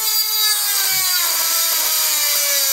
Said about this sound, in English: I went ahead and already started doing it with a cutoff wheel and a Dremel tool